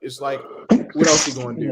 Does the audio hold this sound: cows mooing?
no